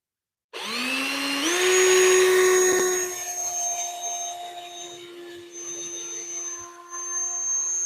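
A cordless drill driving deck screws whines up to a high steady pitch, shifts speed once, and keeps running for several seconds with a ringing mechanical tone.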